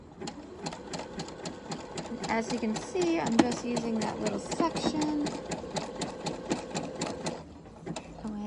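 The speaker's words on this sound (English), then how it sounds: "Once I get on my fabric, I'm going to back stitch a little." A sewing machine back stitches across sequin fabric for a shrug, its needle running in a fast, even mechanical rhythm close by while someone talks over it.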